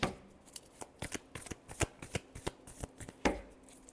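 Tarot cards being shuffled by hand give a quick run of crisp riffling snaps and flicks, fairly close and clear, with brief pauses between bursts and no talking.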